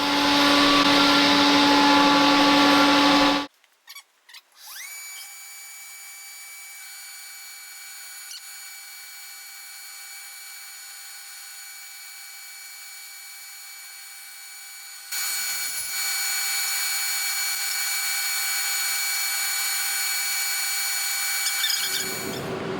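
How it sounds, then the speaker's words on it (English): Workshop bandsaw, power saw and dust extraction unit running, a loud whine that cuts out, then a long quieter steady mechanical hum that swells back up to a louder drone for the final stretch. "I'm running the bandsaw here, power saw running there, the dust extraction unit"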